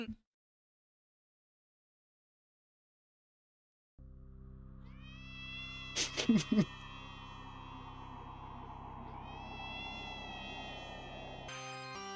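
A mutant kitten from Homestuck gives a sustained, electronic-sounding meow after a few seconds of silence, with a short burst of squeaky chirps partway through and a sharp cut near the end.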